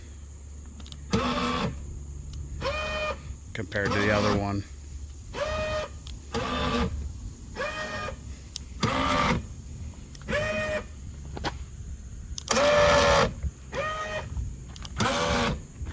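A worn electric camper jack leg motor whirs and grinds in repeated short bursts while loading a camper onto a truck, with someone speaking briefly between them.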